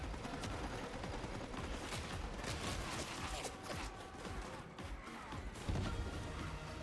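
Gunfire and grenade explosions rattle nonstop through a video game firefight, with dense crackling shots and heavy bangs layered together and a louder blast near the end.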